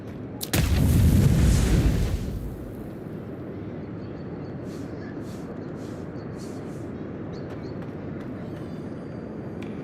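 A bomb blast in the fantasy video game Avowed: one loud, deep explosion bursts out near the start and rolls for over a second, then fades into a lower sustained rumble of game ambience.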